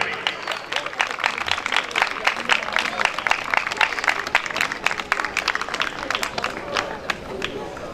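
Applause from an audience at a church program stage ceremony: rapid, crisp clapping from a crowd, steady and fairly near, with voices mingling in the background.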